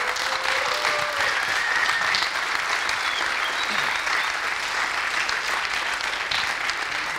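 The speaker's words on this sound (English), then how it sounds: "Let's give up a big applause for him." A conference audience at an opening session in Vienna breaks into sustained, dense applause, loud and close, a continuous roar of many hands with a few faint whistles over it, lasting the full seven seconds.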